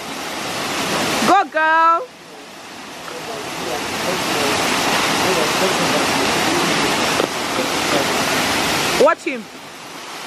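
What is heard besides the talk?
Olumirin waterfall rushing water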